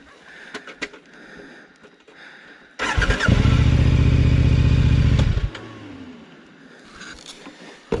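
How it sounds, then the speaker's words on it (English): A Tenere 700 or KTM 1090 adventure motorcycle cranks loudly for a few seconds, the starter churning steadily without the engine catching, then falls quiet, with a faint engine idling nearby before and after. "Why won't my bike start?"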